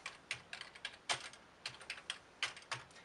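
Fingers type on a computer keyboard in quick, irregular bursts of clicks, close and clear, with short pauses between words and no talking.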